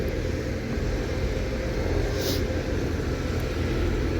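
A truck driving nearby, producing a continuous dense low rumble that stays loud and steady throughout, with no voices over it.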